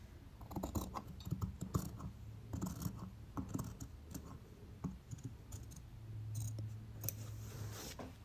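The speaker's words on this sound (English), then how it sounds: "go ahead and cut off the new excess that you've created" Scissors cutting excess fabric from a sewn glove, a series of quiet snips and crisp shearing clicks in uneven bursts, close and faint.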